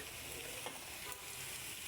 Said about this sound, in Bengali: এখন আমি এর ভিতরে দিয়ে দিব মাছ।